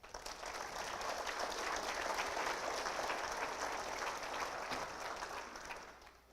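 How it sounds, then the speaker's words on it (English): Audience at a State of the City address bursts into sustained applause, a steady wash of many hands clapping at moderate distance for several seconds before tapering off. "we owe them a round of applause as well"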